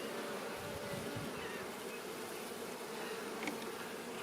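Honey bees swarm in an opened hive, filling the air with a faint, constant buzzing drone that stays close and even throughout, with no voices.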